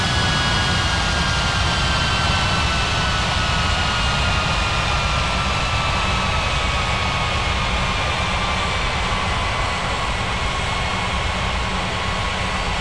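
A jet airliner on its takeoff roll from runway 18 at a regional international airport, a loud, steady engine roar with a whining tone that slowly falls in pitch and fills the whole stretch without a break.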